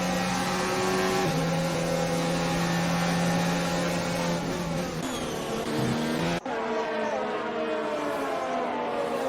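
Several racing car engines roar and shift pitch in an F1 video game race, a continuous loud, layered engine drone with gear changes, later thinning to fewer cars after a sharp cut.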